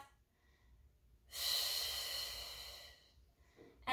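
A single long, deep exhale during a Pilates mat exercise, breathy and close, lasting about a second and a half, with quiet room tone before and after.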